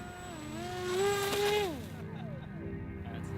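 A small UAV drone climbing, its motor whine sweeping up in pitch, then dropping off as the throttle eases, steady and fairly close, with faint wind and outdoor noise underneath.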